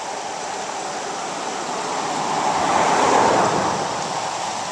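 Floodwater from Broadway Creek rushing after hard rain, a steady broad roar of moving water that swells slightly midway and holds without pause, with no voices.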